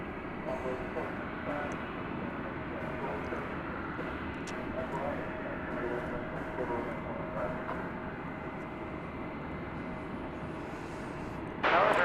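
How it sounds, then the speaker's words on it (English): Steady, loud jet engine roar from a fixed-wing airliner taking off at Dallas/Fort Worth (DFW) Airport, sustained throughout as a broad rumble with a brief burst of louder noise near the end; occasional voices murmur underneath. "So I'm thinking this may be our final takeoff of the day"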